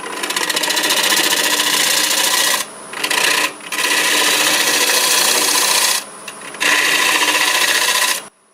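Bowl gouge cutting a tenon on wet or dry wood spinning on a lathe, a loud, close, buzzing scrape in long passes broken by a few brief pauses.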